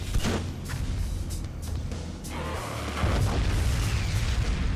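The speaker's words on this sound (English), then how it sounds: "time for the coffin launcher" Coffin launcher firing in the video game Gungrave: a rapid series of heavy, booming blasts and pops piled over a dense, roaring rumble, loud and continuous, with no talking.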